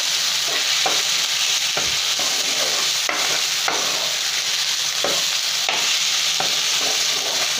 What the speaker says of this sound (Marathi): तर आपण आता टाकणार आहोत टोमॅटो